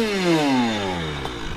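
A motorcycle engine revs loudly and close by, a raw, buzzing roar whose pitch falls steadily as the revs drop over a second and a half.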